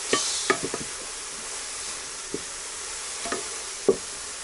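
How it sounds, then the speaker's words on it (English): Kale being stirred in a pan over a village cooking fire in Kenya, with a few soft scrapes and clicks of the utensil over a faint sizzle, spaced irregularly and fairly quiet. "I have to stir them so that they can mix like that."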